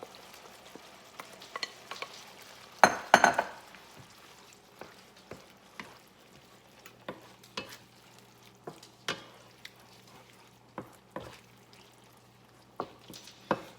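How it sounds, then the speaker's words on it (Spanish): Green beans frying in a pan for a Mexican dish of stewed beans with egg in red sauce, giving a constant low sizzle with scattered stirring taps and scrapes and one louder clatter early on, close and without speech. "agregar nuestros ejotitos al sartén."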